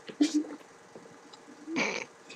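A person imitates a cat, giving a couple of short, fairly close meows followed by a louder, breathier meow-like cry, with quiet pauses between them.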